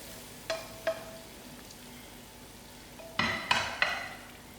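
Kitchari braising in a pan is stirred: a few sharp spoon taps against the pan, then a louder burst of scraping and clinks over a faint simmering hiss, close by and without voices.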